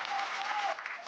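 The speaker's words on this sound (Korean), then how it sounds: "큰 박수로 환영해 주시기 바랍니다." Audience applause rises to welcome the president-elect Yoon Suk-yeol as he enters a victory event, steady dense clapping for about a second with a faint voice carrying over it.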